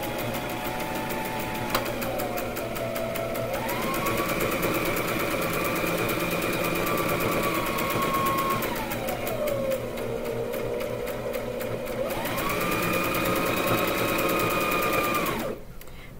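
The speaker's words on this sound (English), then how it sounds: "Stitch, back stitch." Sewing machine stitching a rag quilt, running in steady bursts with pitch shifts as it stitches forward and back stitches, close and fairly loud with no talking.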